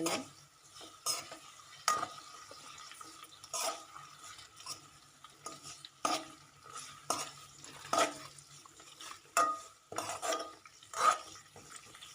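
Homemade hair oil simmers in a pan over low heat, a steady faint sizzle and bubbling broken by repeated sharp clinks and scrapes of a spoon against the pan, close and without speech.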